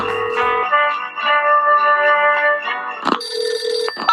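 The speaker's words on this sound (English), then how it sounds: "A phone call?" An electronic telephone ring from a Google Home Hub's Call Santa feature sounds as a steady, bright tonal ring, loud and close, changing pitch briefly toward the end.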